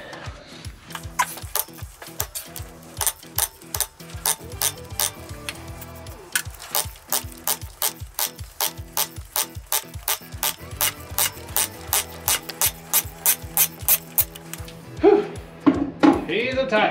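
A ratchet wrench loosens a tight cylinder head bolt on an IH 484 tractor, producing a long run of loud, sharp, evenly spaced clicks close by, followed by a few heavier knocks and some straining at the end.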